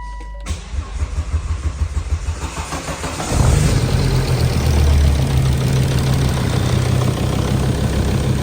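A Volvo 2.4 D5 diesel car engine with a low fuel pressure fault cranks for several seconds, then catches and settles into a loud, steady, rattling diesel idle close by.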